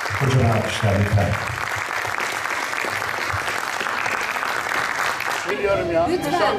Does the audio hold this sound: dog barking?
no